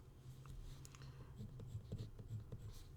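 Faint scratchy strokes of writing on a board during a math lecture come as short, rhythmic scrapes in a quiet room, with no one speaking.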